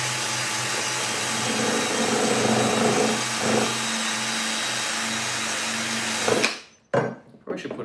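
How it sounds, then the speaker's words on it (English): A power drill whirs continuously at a cluttered workbench, a loud steady buzzing drone that cuts off abruptly near the end, followed by a few knocks and handling sounds. "But I'm going to use this drill for a little bit"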